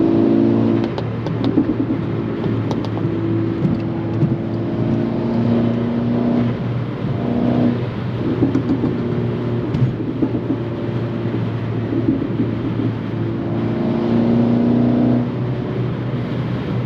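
A tuned, full-bolt-on Volkswagen MK6 GTI accelerates hard, its engine droning loud and close inside the cabin with rising and falling rev tones, gear changes breaking the pull, and no talking.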